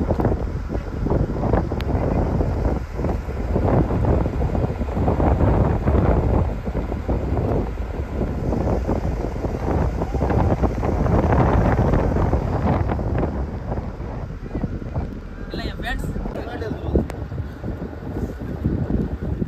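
Strong wind buffets a fishing boat out at sea near Mookkur harbour, a loud, constant roaring rush with gusty swells and a low engine-like rumble underneath, no talk.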